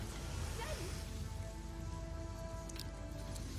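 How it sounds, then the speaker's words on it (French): Magic rain spell falling in Divinity Original Sin, cast in an underground level: a steady, dense patter of rain continues throughout, with a faint tonal game hum beneath it. "On est en plein sous-sol et on fait tomber la pluie."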